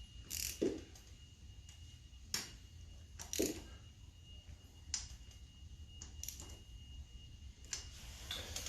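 A ratchet snugs down the engine bolts on a 2001 Bayou 220 during a top end rebuild, giving sparse clicking bursts spaced a second or so apart, close but fairly quiet, with no speech.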